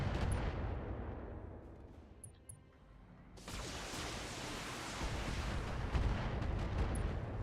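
Missiles fire in the mech combat game Battletech, a deep rumbling roar that dips briefly, then surges back as a loud, sustained rushing blast.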